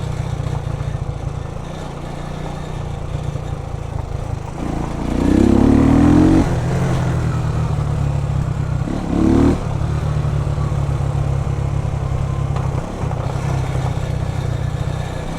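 A Jamco motorcycle fitted with an Eagle engine pulls hard in second gear. Its steady engine drone swells into two rising revving surges, one long and one brief, before settling back to a rough, even hum.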